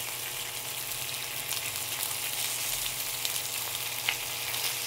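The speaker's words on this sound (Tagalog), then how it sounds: "Pwede na mag-ihaw sa loob ng bahay. Gamit ang kawali. Non-stick." Salmon grilling in a non-stick pan lightly coated with oil, giving a steady, dense sizzle throughout with a few faint pops, heard alone and close.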